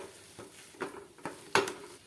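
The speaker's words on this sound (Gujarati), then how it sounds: "હવે આપણે આ રીતે લાકડાનો ડટો લેવાનો અને તેનાથી બધી વસ્તુને આ રીતે મિક્સ કરી દેવાની" A wooden masher pressing and stirring spiced potato samosa filling in a pot, giving a few soft, dull thumps and scrapes spread over two seconds, with one louder knock near the end.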